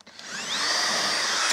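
A power drill bores out a bigger hole for carriage bolts in a wooden shed door, a steady close whine that builds over a second and a half with no talk.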